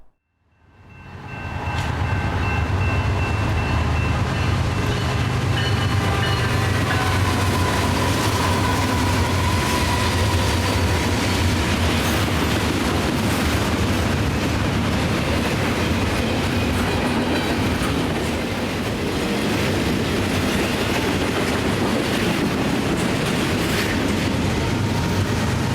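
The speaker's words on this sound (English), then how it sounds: "A westbound BNSF domestic intermodal slices through the unstable air" A westbound BNSF domestic intermodal freight train roars past close by, a loud, continuous rumble and rattle of wagons and wheels that fills the whole stretch.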